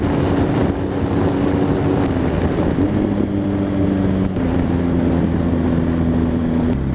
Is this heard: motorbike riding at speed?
yes